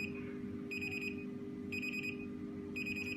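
A solar-powered infrared beam burglar alarm gives three short high-pitched beep prompts at roughly one-second intervals. They sound faint over a steady low electrical hum.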